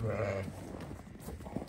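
A young ewe lamb bleats once, loud and close at the start, at a sheep sale pen with livestock, followed by low farmyard rustling and faint background noise.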